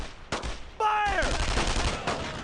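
Gunfire in the World War II shooter Brothers in Arms: Road to Hill 30, in a fight with German paratroopers: a sharp shot followed by a loud burst of rifle fire with a ringing tail, close and prominent.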